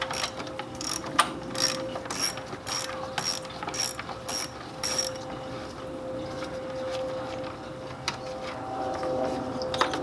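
A ratchet removing the radiator fans from a 9th-generation Honda Accord, a bright rapid clicking in several quick bursts of turns, close up, then a pause with quieter mechanical handling noise.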